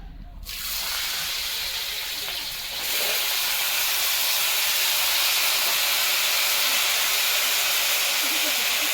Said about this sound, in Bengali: চচ্চড়ির আলু দিয়ে দিল, এখন একটু ভেজে নিব